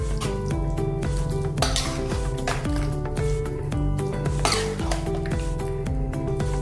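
Brinjal and tomato curry with fresh coriander is stirred in a pan, with a spoon scraping and clinking steadily against the metal over a soft sizzle. Music plays throughout.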